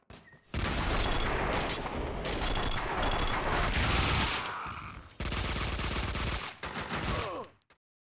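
Gunfire in the video game Max Payne 2, loud and dense bursts of shots and explosions filling nearly the whole clip, with a brief break midway and a sudden stop near the end.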